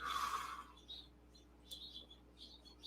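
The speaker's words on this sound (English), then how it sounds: "And we got a lot of birds chirping outside." Small birds chirp outdoors in short, faint, scattered bursts over a steady background hum, following a louder opening sound.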